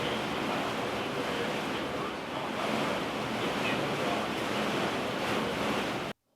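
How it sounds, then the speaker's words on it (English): Stormy weather outside a gym, with wind and rain making a steady, broad roar that persists for about six seconds, then cuts off abruptly. "if you listen closely here, you'll hear the terrible weather I was talking about"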